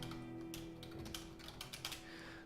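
Rapid typing on a computer keyboard, a steady patter of clicks and key taps layered over a continuous background hum, fairly close and moderately loud, with no talk.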